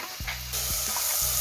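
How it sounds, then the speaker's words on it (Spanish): Tomato sautéing in a pan as the base of a seafood soup, an even hiss of frying that grows slightly louder partway through, with a few low knocks and no talk. "lo dejamos sofreír aquí un momentito"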